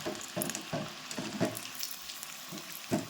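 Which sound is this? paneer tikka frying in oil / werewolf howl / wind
paneer tikka frying in oil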